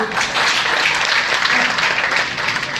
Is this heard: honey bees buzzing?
no